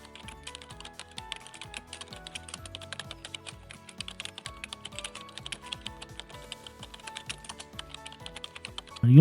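Fast, steady clicking of keys on a computer keyboard, close and crisp, with no voices present.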